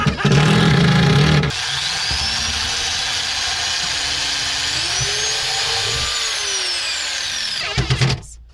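Power drill boring into the wooden bed frame of a stealth camper van conversion, a steady whining motor with rising and falling pitch running for several seconds after a brief louder burst, fairly close, with no talk over it.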